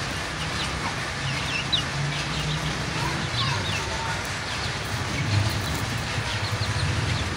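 Chickens on a small farm cluck steadily while pecking at grain feed, a dense, continuous flock chatter close by over constant background noise.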